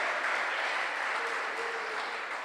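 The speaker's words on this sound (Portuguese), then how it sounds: "Você pode aplaudir a Yeshua" A church congregation claps in steady, dense applause, moderately loud and continuous without speech.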